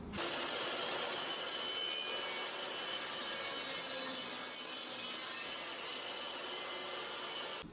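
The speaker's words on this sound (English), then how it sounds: "Now we can saw it." A hand saw cuts through a clamped piece of wood with a continuous, dense rasping stroke sound, close up and unbroken throughout, with no voices.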